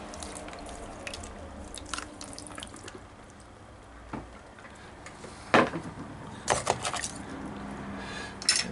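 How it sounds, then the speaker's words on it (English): Water splashing and trickling while a metal gold pan is rinsed clean, with intermittent sharp clanks and sloshes near the end, close and moderately loud. "We're going to wash this pan clean."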